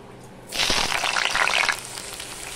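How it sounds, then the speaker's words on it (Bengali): Potatoes dropped into hot mustard oil in a wok burst into a sudden loud sizzling rush that holds for about a second, then falls back to a quieter background hiss. "এবার আমি আলুগুলো ভেজে নেব।"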